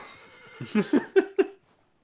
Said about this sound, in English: Horse just chilling.